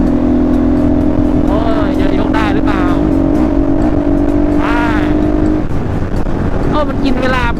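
A motorcycle engine revs loudly and repeatedly during a wheelie ride on a rural road, the pitch rising and falling in surges close to the rider, with no clear talking over it.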